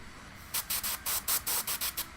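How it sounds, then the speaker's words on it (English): Airbrush sprays paint onto the back of a hand during miniature painting, checking for chunks: about eight short, even hissing bursts in a steady rhythm, close and clear over a faint background hiss. "And I'm spraying the back of my hand, make sure paint's coming out properly, no chunks"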